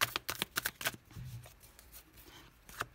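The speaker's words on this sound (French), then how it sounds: "Allez, c'est parti, on va prendre 2 cartes." Tarot cards are shuffled and drawn by hand: a quick run of crisp riffling flicks up close, then softer slides and a final snap as cards are pulled from the deck.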